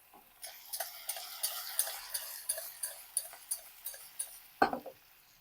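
Bottle gourd pieces with asafoetida and turmeric are stirred in a pan, with a spoon tapping and scraping in a steady, regular rhythm of light clicks, close and fairly quiet, ending in one louder knock.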